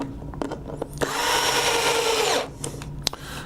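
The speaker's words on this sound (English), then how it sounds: "I've got this torque wrench set at about 15 on a Hitachi screwdriver" A Hitachi power screwdriver set to a moderate torque whirs steadily for about a second and a half, driving a screw while a battery is replaced, framed by small clicks and handling taps before and after.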